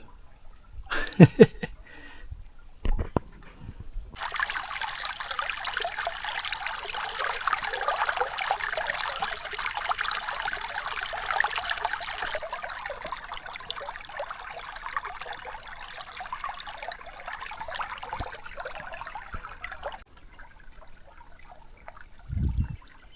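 Creek water in north Florida trickles steadily for about fifteen seconds, a soft continuous burble close by, framed by a few brief knocks and handling noises before and after.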